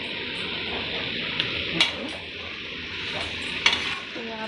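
Tomatoes with spices sizzle and fry in a pan of tempered oil at home, a steady hiss with a couple of sharp stirring scrapes of the spoon, close and alone without talk.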